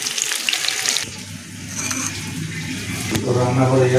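Potatoes frying in oil in a pan: a steady sizzle carries through at close range, then water runs from a tap partway through and fills the end of the clip, with no talking.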